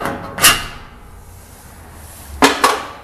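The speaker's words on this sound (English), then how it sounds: "take a little hammer and tap it in" A small hammer taps pins into workshop racking: a single sharp metallic knock, then a quiet stretch, then two more quick taps close together, all close by in a quiet room.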